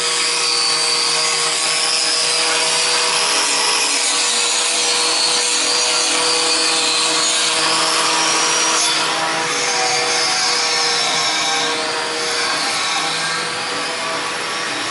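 A random orbital sander works steadily across a wood surface during a streetluge overhaul, giving a continuous close whirring, rubbing hum with a high-pitched tone that drifts slightly and holds for the full stretch without talk.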